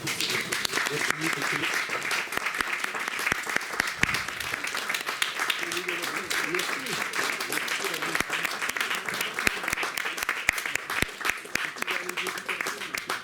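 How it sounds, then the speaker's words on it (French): Sustained applause from a crowd, dense clapping that continues steadily, with some voices faintly mixed in. "on va se lever et vous applaudir"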